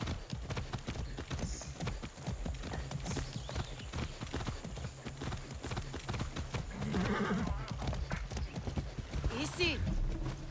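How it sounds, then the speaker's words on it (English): Horse hooves clip-clopping steadily with an occasional whinny in the video game Far Cry 6, close and continuous under a man's calm speech throughout. "I love the horses in this game."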